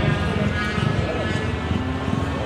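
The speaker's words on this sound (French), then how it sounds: "Et les bruits de moto un peu de partout." Motorcycle engines, including an old Harley, rumble from all around at a bike meet alongside a Royal Enfield GT Cup 650 event, a continuous low droning under someone talking close by.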